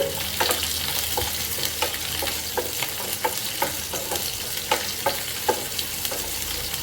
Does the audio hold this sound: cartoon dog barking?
no